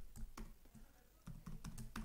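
Fingers tap out code on a computer keyboard in quick uneven clusters of clicks with short pauses between, soft and close, no talking.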